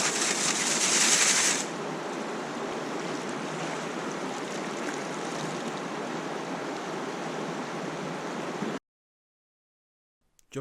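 A river flows steadily with a broad, continuous wash of water, close and fairly loud, louder at the start, then running evenly until it cuts to silence near the end.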